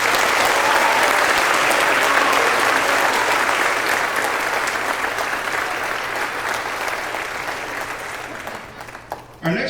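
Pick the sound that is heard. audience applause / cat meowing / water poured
audience applause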